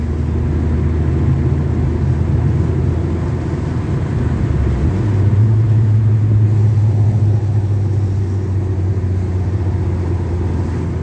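A 2004 PT Cruiser Dream Cruiser Series 3 cruises on the highway, giving a continuous loud engine and road drone from inside the car, with the engine note dropping and settling into a steadier lower hum partway through.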